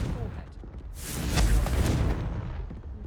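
A Confringo fire spell explodes in Hogwarts Legacy on PS5: one broad, roaring blast swells for about a second and then fades back into the game's ambient noise.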